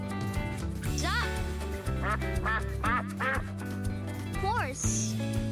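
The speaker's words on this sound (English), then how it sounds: "Duck." A duck gives a series of quick, nasal quacks, clustered in the middle and close to the listener, laid over cheerful background music with brief speech.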